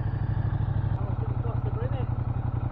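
A Ducati XDiavel S motorcycle fuelled by mistake with diesel idles close by, with a steady low, pulsing engine throb and a faint clattery layer above it, alone without talk.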